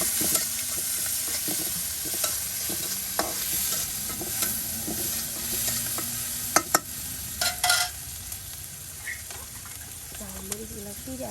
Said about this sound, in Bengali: এই যে দেখুন তেল দেওয়ার পর এখন রসুন কুচি, মরিচ কুচি সব একসাথে